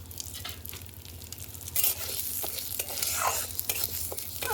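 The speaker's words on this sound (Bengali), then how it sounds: "কড়াইয়ে অল্প তেল দেব, অল্প তেল দিলাম। এবার মুগের ডালগুলো ভালো করে ভেজে নেব।" Mung dal fries in a little oil in a wok over a lit stove, giving a steady close sizzle with crackles and occasional scraping stirs, growing a bit louder midway; no talking.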